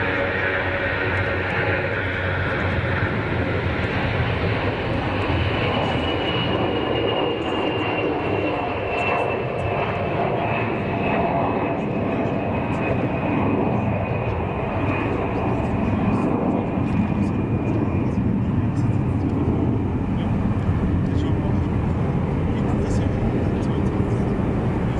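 A Condor airliner takes off from Zurich Kloten Airport at full power, its jet engines roaring loud and sustained, with a slowly falling whine running through the roar as it climbs away.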